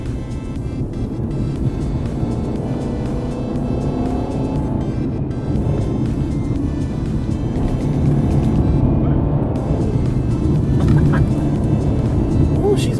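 A 2018 Mercedes C-Class is driven through an S turn, heard from inside the cabin as a continuous loud engine and road rumble that swells slightly partway through. Someone talks intermittently over the noise.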